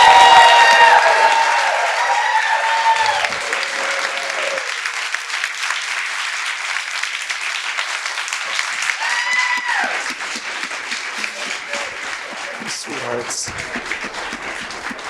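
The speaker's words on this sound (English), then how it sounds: "can we just have a round of applause for all of tonight's storytellers?" Audience applause for the evening's storytellers at a live storytelling show, a long sustained wash of clapping that starts loud, settles to a steady level and carries on, with a voice and some cheering briefly over it.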